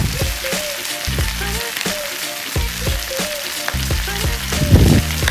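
Pork browning in a pan as tomato sauce is stirred through it, giving a steady close sizzle broken by repeated scraping strokes of the spoon and a louder bubbling burst near the end.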